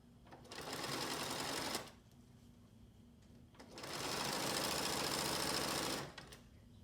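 A sewing machine back stitches through a fabric face mask to lock in the elastic, running in two steady bursts of rapid mechanical whirring with a short quiet pause between them, close and clear.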